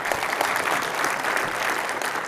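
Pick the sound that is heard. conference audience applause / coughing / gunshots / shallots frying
conference audience applause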